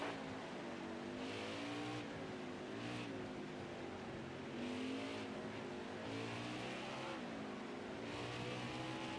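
A NASCAR race car in the NASCAR Heat 5 video game accelerating off pit road, engine rising and shifting through gears in repeated revving pulls, steady and loud throughout.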